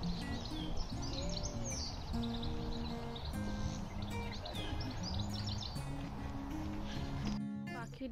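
Birds call and chirp in a wooded park along a walking path, with scattered tweets and whistles over a soft outdoor hum and faint footsteps.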